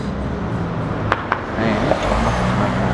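A local bus in a Tokyo-area suburb in Japan idles and rumbles nearby amid steady road traffic noise, with a couple of brief sharp clicks and a slight rise in engine sound as it moves to make a stop.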